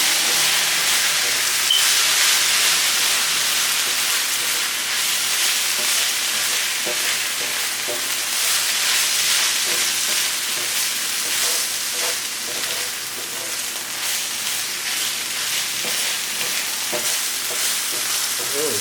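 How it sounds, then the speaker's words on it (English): Vegan bulgogi sauteing in a pan with a soy glaze and cane sugar, a loud continuous hiss and sizzle with steam, steady throughout with faint stirring scrapes and no talking. "Saute this for about another 2 or so minutes"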